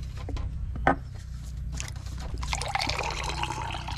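Water from a fresh coconut is poured out in the Philippines, starting as a soft trickle and building into a steady splashing pour after a sharp knock.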